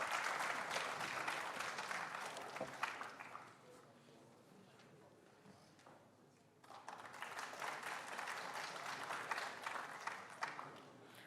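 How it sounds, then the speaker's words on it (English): An audience at the Smart India Hackathon 2025 grand finale valedictory ceremony claps for an honoree, a burst of applause that fades to quiet murmur midway and then swells again into a second, fuller round. "Give him a big round of applause."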